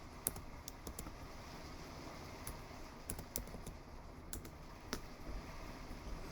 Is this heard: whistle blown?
no